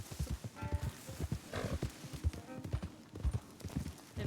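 Horse hooves clip-clop at a walking pace in Red Dead Redemption 2, a soft, irregular series of muffled thuds with faint tack jingles, heard alone and fairly close.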